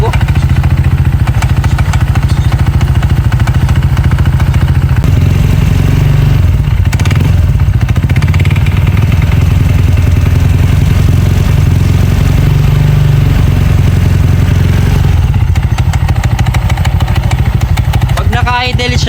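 Honda Click 160 scooter idling with a worn, flapping drive belt, a steady loud low-pitched engine rumble with rattling clatter running throughout, talk over it, and a brief dip near the middle before the idle resumes.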